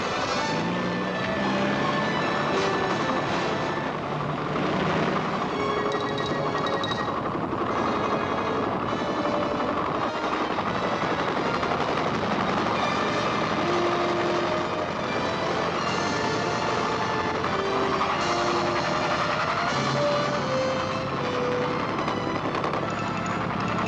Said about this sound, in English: Some helicopters are big enough to transport a full combat platoon